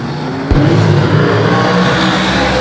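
Super sedan race car engines roar loudly and steadily at Brisbane Speedway, a dense, sustained revving wall of engine noise from a field lining up for a heat race.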